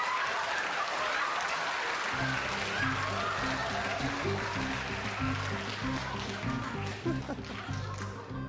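A studio audience at a comedy show applauds loudly and continuously, and a steady musical tone joins partway through.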